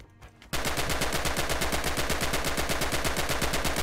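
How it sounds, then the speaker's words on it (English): Rapid automatic gunfire in the World War II shooter Red Orchestra 2 while blind firing from cover, a loud, relentless stream of evenly spaced shots that bursts in after a brief quiet moment and continues without a break. "Blind fire now and see what you can hit."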